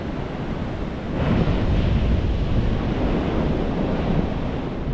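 Surf washing onto Surfers Paradise main beach on the Gold Coast, a steady broadband roar that swells slightly after the first second, with wind buffeting the microphone and no voices.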